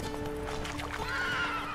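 A horse in The Witcher 3 gives a loud, close whinny over rhythmic clip-clop hooves, lasting the whole short moment.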